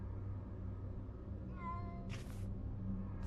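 A cat in a video game lets out a single clear meow, with a brief rustling burst just after it, over a steady low ambient hum of an attic level.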